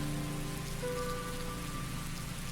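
Rain falling in Tales of Graces f, a steady soft patter that continues evenly throughout, with a faint tonal hum sitting underneath and no voices.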